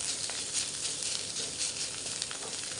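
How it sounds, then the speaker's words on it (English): Grated watermelon rind sautés in ghee, giving a continuous, even sizzle with a fine crackle throughout, close and moderately quiet with no voices. "Sauteed this in ghee for"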